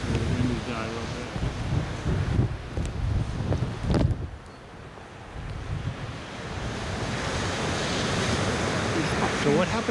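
Ocean surf breaking and washing along, a broad rushing roar mixed with gusty wind buffeting the microphone, dipping briefly before swelling into a steady hiss; a voice talks faintly at times.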